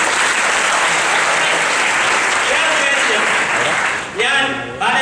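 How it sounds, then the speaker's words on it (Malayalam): An audience at a self-confidence motivational seminar breaks into dense, loud applause that holds steady for several seconds, then thins out near the end as a voice cuts in. "രഞ്ജിനിക്ക് ഒരു കയ്യടി കൊടുക്കണം."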